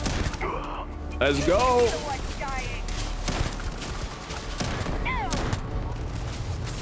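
Shotgun blasts in the sci-fi shooter Starfield, several sharp loud shots scattered among other gunfire while a player talks over the action.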